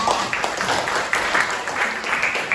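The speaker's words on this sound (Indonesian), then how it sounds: "tepuk tangan untuk kita semua ya" Class of students clapping together at the end of a lesson, a dense, uneven patter of many hands close by, lasting a few seconds with faint voices mixed in.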